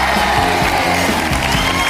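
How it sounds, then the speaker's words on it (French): A television studio audience at a Pièces jaunes charity broadcast applauds and cheers for Julien Courbet. The clapping and whoops blend into a loud, continuous crowd roar. "Je voudrais demander quand même un applaudissement fourni et chaleureux pour Julien Courbet."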